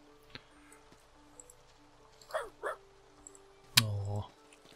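A small dog in the farming game Staxel gives a few short soft yips, then a louder bark and whine near the end, over quiet ambient game sound with faint clicks.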